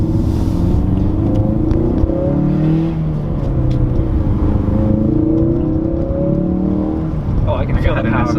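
A 2017 Ford Focus RS with a manual gearbox accelerates hard, its engine note rising as a loud, steady rumble heard from inside the cabin, with people talking over it.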